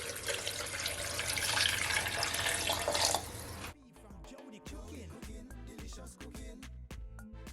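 Cold water poured from a tap into a blender holding coconut for homemade coconut milk, a steady close hiss of running water for about three seconds, then stopping into faint drips and small clinks.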